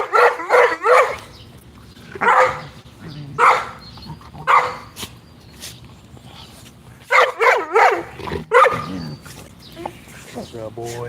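Dog barking in repeated bursts of sharp, loud barks with short pauses, close by, mixed with some whimpering yips and a person talking in between.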